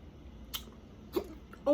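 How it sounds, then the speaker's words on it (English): A person eating at a mukbang meal gives a couple of short, sharp hiccups, quick isolated bursts against a quiet background. "Oh, I got hiccups."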